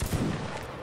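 Rifle volley fired in a video game line battle, a dense burst of simultaneous musket shots with rumbling low-end crack, loud and close, lasting under a second with no talk.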